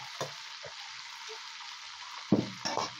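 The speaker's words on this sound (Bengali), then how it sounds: "এই মাংসটা বেশি ভাজবেন না, মানে জাস্ট একটু কালার" Meat for a roast fries in a pot with a steady sizzle, broken by a couple of louder stirring scrapes near the end and brief voice sounds.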